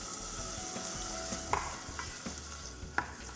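Korma sauce with chopped tomatoes bubbles softly in a pan under a low steady sizzle, punctuated by a few distinct utensil scrapes and taps against the pan, nearby and alone without talk.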